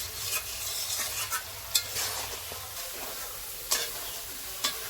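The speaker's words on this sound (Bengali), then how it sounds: "জিরে গুঁড়ো দিয়ে দিলাম টমেটো কুচি দিয়ে দিলাম ভালো করে কষিয়ে নিতে হবে" Cumin powder and chopped tomato are stir-fried for a spicy crab curry: a steady sizzle runs throughout, with a spatula scraping and clacking against the pan now and then.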